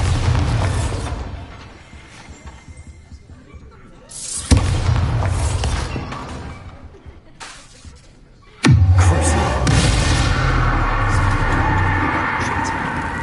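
Bombarda blasting spell in Hogwarts Legacy: a sudden loud explosive burst lands near the end after quieter rumbling thumps earlier, with spoken lines in between.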